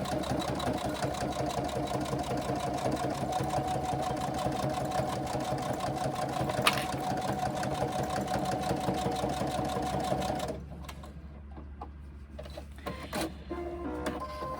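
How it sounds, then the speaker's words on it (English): A sewing machine stitches a seam on a small fabric pouch, a steady close mechanical whir with a rapid needle rhythm for about ten seconds, then stopping abruptly to quieter room sound. "position your needle on that line that you've just drawn and sew your seam"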